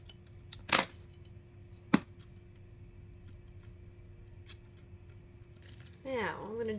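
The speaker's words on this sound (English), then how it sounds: "I'm going to try to cut long strips and glue them on" Scissors snip through paper strips for a Dollar Tree wedding centerpiece craft, giving two sharp, isolated cuts at close range against a quiet room, followed near the end by a brief burst of other sound.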